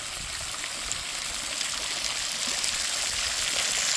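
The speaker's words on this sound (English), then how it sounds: "the sound of the water fountain, which sounds good to me because it's a hot day here in Iowa" A water fountain beside a Little Mermaid sculpture on a hot day in Iowa splashes steadily, a continuous soft hiss of falling water with no voices over it.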